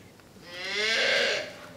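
A single long cow moo sounds on a high-tech dairy farm of over forty cattle in Pollachi. It swells and fades over about a second, fairly close and clear, with no talk.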